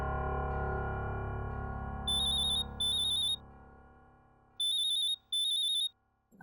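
An electronic phone ring trills in two double bursts, a pause, then two more, sounding over a fading low musical background in a domestic drama scene where parents are calling about their son.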